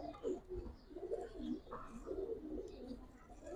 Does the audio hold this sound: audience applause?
no